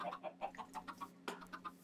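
Minecraft chickens cluck in a quick series of short, soft pulses, fairly faint and close together, with no speech over them.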